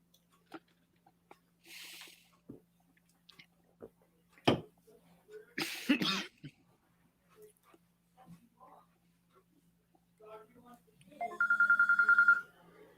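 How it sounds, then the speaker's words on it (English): A phone rings out with a medicine reminder call near the end, a short electronic ringtone burst that follows scattered talk and room noise. "That's a phone call."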